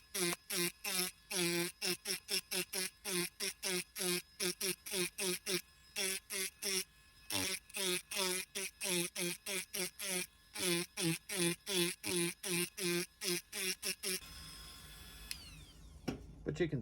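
An Automach power carving tool buzzes in short, rapid bursts against wood, a quick rhythmic on-off chatter repeated many times before trailing into quieter handling noise.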